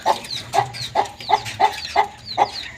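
A hen clucks in a steady rhythm, about seven clear clucks roughly half a second apart, close and fairly loud with faint background noise.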